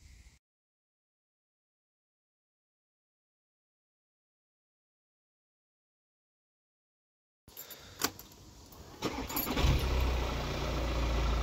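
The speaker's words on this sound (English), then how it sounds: "We have a car that starts" After a long stretch of silence, a car with its check engine light on cranks and fires, then settles into a steady, fairly loud idle.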